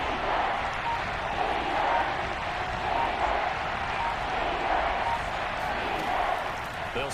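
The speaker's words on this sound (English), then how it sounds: "Crowd getting in it a bit already." Football stadium crowd roaring steadily during an NFL game between the Buccaneers and Saints, a broad, constant wash of cheering under a commentator's voice.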